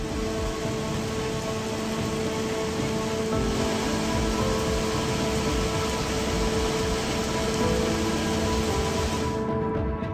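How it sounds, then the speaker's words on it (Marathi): Heavy monsoon rain over the hills of Mahabaleshwar, with torrents pouring down, making a dense, unbroken roar of falling water that stays loud and steady before cutting off abruptly at the end. "जोरदार पावसामुळे महाबळेश्वरच्या डोंगर माथ्यावरून पाण्याचे लोट कोसळतात।"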